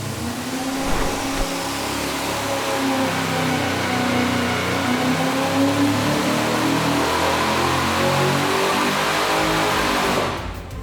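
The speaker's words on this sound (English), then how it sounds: "just hearing the engine on the dyno, hearing it rev, hearing the way we could roll into the throttle" A tuned street engine on a dyno revs steadily and loudly for about ten seconds, holding a sustained, rising drone of high RPM before cutting off abruptly at the end.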